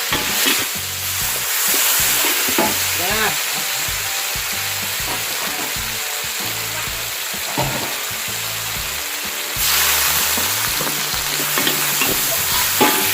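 Sliced pork belly stir-fried with basil leaves in a pan: a loud, continuous sizzle with repeated scraping stirs, close up, over background music.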